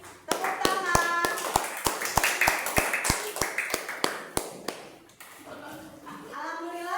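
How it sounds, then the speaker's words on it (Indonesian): A classroom of students claps in quick, sharp, evenly spaced strokes for about five seconds, close and distinct, before the clapping stops and voices and chatter take over. "Tepuk tangan."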